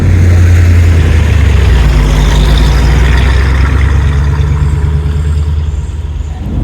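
A loud, deep V8 engine of an Iso Grifo with Corvette power rumbles steadily at idle, close by, with a throaty low hum that eases slightly toward the end.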